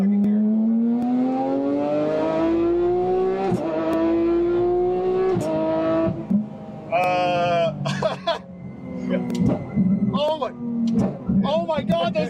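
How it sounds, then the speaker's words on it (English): A heavily modified street car revs high in second gear, its engine tone climbing in long pulls, then downshifts with sharp blips and crackles, loud and close, with a voice briefly exclaiming near the end. "those downshifts are insane"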